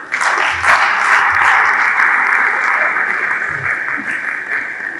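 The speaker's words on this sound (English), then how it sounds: "Another round of applause for such, a precise photo of talent." Sustained audience applause at the close of a university faculty guest lecture, dense and steady clapping throughout, loud and close, slowly tapering toward the end with no talk over it.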